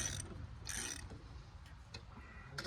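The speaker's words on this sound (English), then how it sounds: "I brought the old-fashioned speed wrench, old-fashioned impact." Speed wrench ratcheting on acorn lug nuts of a car trailer wheel, several short bursts of metallic ratchet clicking separated by pauses, fairly close and fairly quiet, with no talk.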